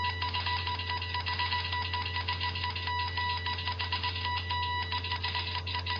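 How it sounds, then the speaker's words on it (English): Morse code beeps in the X-Plane flight simulator, a steady high tone pulsing on and off in short and long bursts over a constant low engine hum, moderately loud and continuous. "How about Morse code?"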